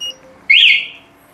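A Tasslock motorcycle security alarm lets out a single short, high electronic chirp that slides slightly and fades within half a second, close and fairly loud.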